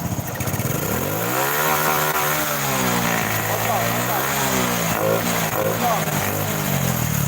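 A fuel-injected Honda Blade motorcycle engine revs up and down close by, its pitch rising and falling in repeated swells over a steady idle, with a voice talking over it.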